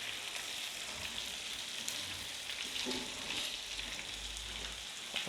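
Chicken pieces fry on a hot tawa, giving a continuous soft sizzle and crackle at low volume, with faint stirring scrapes and no voices.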